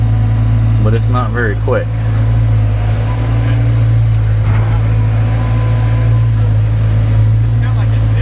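A brand-new Cat 320 Next Gen excavator engine runs at a low, steady drone, close and constant throughout, with someone talking briefly over it.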